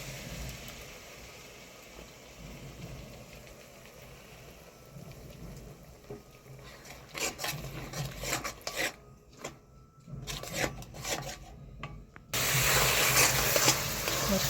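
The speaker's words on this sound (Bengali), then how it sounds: "মশলাটা ভালো করে নেড়ে চেড়ে ভেজে নিচ্ছি।" Paste-ground spices for Bengali fish kalia are stirred and fried in a pan, giving a steady scraping rasp and a soft sizzle up close, with the frying noise growing louder and brighter toward the end.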